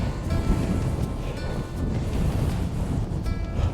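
Strong wind gusting across the Cornish coast at Nanjizal, a loud, close, continuous buffeting roar battering the microphone with low rumbling surges and no pauses.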